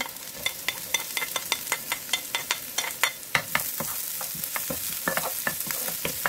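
Garlic and ginger sizzle in a hot pan while being stirred, with rapid, crisp crackles and scraping strokes in a steady rhythm, close and moderately loud with no talking.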